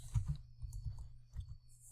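Computer keyboard keys tapped out as a list of numbers is entered, a few irregular soft clicks in short bursts, close and quiet, with no talking.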